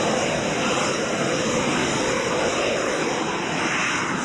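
Biplane fitted with jet engines flying past, a loud, steady engine roar with a broad rushing hiss and a high whine held throughout.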